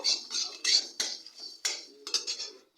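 Whole coriander seeds being stirred in a pan, a series of quick light metallic scrapes and clinks from a spoon, about ten short strokes in uneven rhythm, close and alone.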